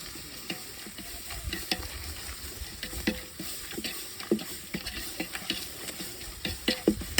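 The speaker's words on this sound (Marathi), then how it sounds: "ती चटणी पावडर घेऊन मिक्स करू" Chutney powder is stirred in a hot frying pan during cooking of mutton, a soft continuous sizzle broken by repeated scraping and clinking of a spoon against the pan.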